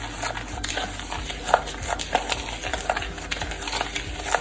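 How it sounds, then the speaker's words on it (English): Sugar scrub mixture stirred in a bowl, a continuous gritty scraping with quick irregular clicks of the spoon, close and moderately quiet. "I'm just gonna stir this."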